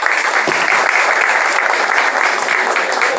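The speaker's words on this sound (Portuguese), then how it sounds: "pedir uma salva de palmas para a Lindicácia" Loud, sustained applause from an audience at a civic ceremony as a guest is invited to the table, continuous dense clapping with no voices over it.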